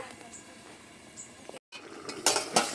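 Lid lifted off a cooking pot of fish curry with small dumplings, followed by clinking metal utensil stirring, soft and close with a few sharper clanks at the end.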